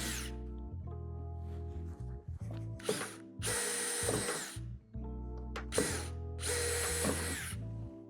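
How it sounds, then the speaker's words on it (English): A power drill whines in repeated bursts, the bit grinding through the first layer of a Lifetime outdoor storage shed's metal door, with a steady motor hum and short pauses between passes; close and loud. "drill them out with the provided drill bit, only going through the first layer of metal"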